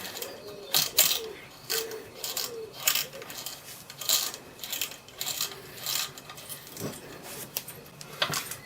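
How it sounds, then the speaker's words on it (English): Starter clutch being threaded onto the flywheel and tightened on a Briggs and Stratton 7hp engine during a rebuild, producing repeated ratcheting metallic clicks and clanks in uneven bursts, close by, with faint background bird calls. "Now we've got the starter clutch, and that just threads on."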